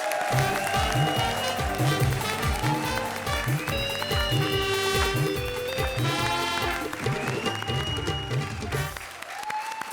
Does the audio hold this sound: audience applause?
yes